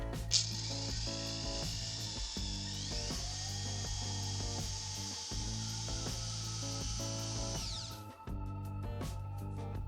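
A Procraft cordless screwdriver drives an 80 mm wood screw with a 10 mm hex head into timber in a garage, a steady high motor whine running for about eight seconds before stopping, with busy clatter underneath.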